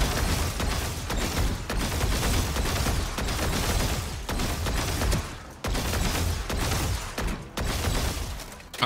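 Rapid gunfire from an aim warmup in the video game Valorant, shots crackling in dense, loud bursts for several seconds with brief gaps between them, no talking.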